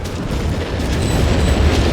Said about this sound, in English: naval bombardment shattering the German front line here